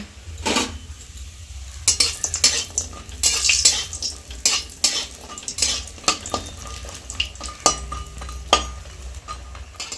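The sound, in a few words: frying bori (lentil dumplings) in mustard oil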